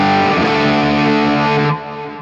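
An electric guitar played through a Tube Driver overdrive model on an Axe-FX III rings out as one loud, thick, distorted chord. It sustains, then drops to a quieter tail near the end.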